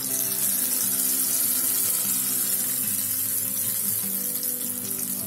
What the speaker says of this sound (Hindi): इसमें करी पत्ता डालें, तड़के को चटनी के ऊपर डाल दें।